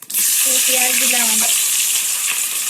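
Onions drop into hot oil with cumin and potatoes for a country chicken curry, bursting into a loud, sustained hiss of sizzling that stays close and dominant, preceded by a brief tonal sound.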